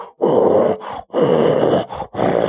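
A person's voice imitates a cow being slaughtered, with three drawn-out, strained groaning bellows separated by short breaths.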